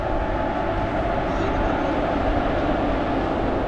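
Tirupati to Vasco da Gama express train at Tirupati railway station, giving a steady, loud rumble throughout, with a voice speaking over it.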